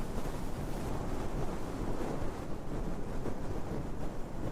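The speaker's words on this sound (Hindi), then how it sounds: "अभी हवा एकदम मस्त चल रही है" Steady, loud wind rush buffets the microphone throughout while riding a Honda H'ness motorcycle on a long highway ride, a broad continuous roar with no voices.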